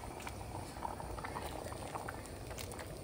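Pot of khichdi at a rolling boil on a rainy day, a soft continuous bubbling and churning of liquid, fairly faint and steady throughout with no clear voices.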